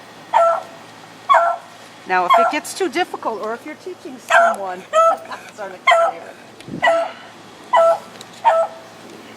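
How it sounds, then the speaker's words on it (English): A dog barks and whimpers in repeated short, high yelps at a steady rhythm, close and loud, with a person talking between and over the calls. "It's a sweet dog with a terrible voice."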